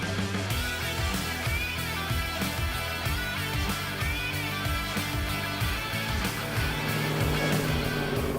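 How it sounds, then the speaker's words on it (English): A VK car with a big stroker engine and loud exhaust driving, a steady deep rumbling drone held throughout at close range, no talking. "and the noise of the stroker engine"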